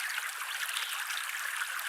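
River water streams and rushes in a steady, hissing flow, continuous and fairly faint with no voices over it.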